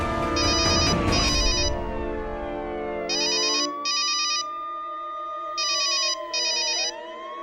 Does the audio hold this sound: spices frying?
no